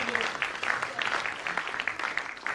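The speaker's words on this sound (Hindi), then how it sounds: "एक बार दिल खोल के तालियां बजा दीजिए" Brief, fairly faint burst of audience applause at the Proud Young Leadership Award 2021 ceremony, with quick, uneven clapping from a crowd heard at a distance for a couple of seconds.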